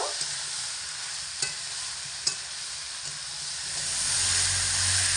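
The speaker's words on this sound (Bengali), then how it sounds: "সমস্ত কিছুর মধ্যে ফেলে ডাঁটা আলুকে খুব ভালো করে মিডিয়াম আঁচে রেখে কষিয়ে নেব" Drumstick pods and potatoes fry in oil over medium heat, a steady broadband sizzle with a few sharp stirring clicks from a spatula, the hiss swelling louder toward the end, no voices.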